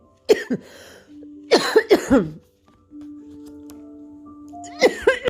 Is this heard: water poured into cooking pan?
no